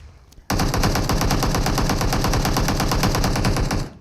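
Rapid automatic gunfire from a PUBG Mobile scrim match starts after a brief quiet moment and rattles on in one loud, steady, unbroken burst for several seconds before tapering off.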